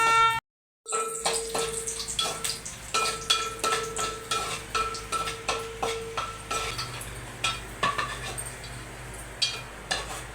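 Cashews fry in a pan for ash gourd halwa while a spoon stirs them in regular, rhythmic scraping strokes over a soft sizzle, close up and with no talking.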